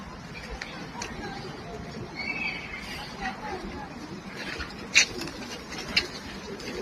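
Pigeons feed close by on scattered food at an outdoor spot in Qatar, with soft coos and light pecking and fluttering patter under a murmur of background voices.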